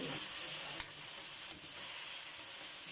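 Chicken pieces browning in a hot pan for chicken curry give a steady, loud sizzle throughout, broken by two brief sharper crackles or stirring clicks, with no talking.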